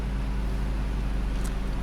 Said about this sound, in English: I heard the cooling fans come on.